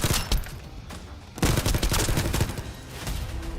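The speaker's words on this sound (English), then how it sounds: "Because I gotta shoot the head, don't I?" Heavy gunfire rattles in The First Descendant video game, loud, rapid bursts of shots close up with a brief lull partway through.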